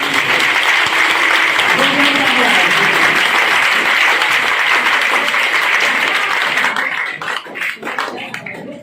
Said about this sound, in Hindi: इसी चीज के लिए जोरदार तालियां होनी चाहिए